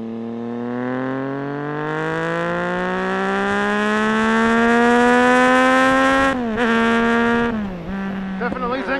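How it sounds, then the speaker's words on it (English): A Triumph Daytona sport motorcycle engine revs while riding, a loud rising tone climbing steadily for several seconds before a quick drop and brief rev changes near the end. "And a very interesting engine note, I gotta say."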